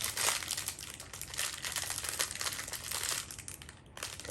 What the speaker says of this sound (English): I'll open the little plastic bags.